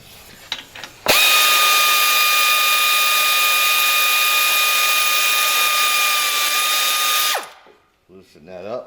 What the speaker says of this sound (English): get our 18mm socket on our air ratchet